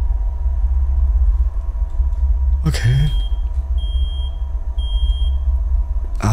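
An alarm clock goes off in an indie horror video game: a sudden burst of noise followed by repeated short high electronic beeps in a regular pattern over a low steady rumble.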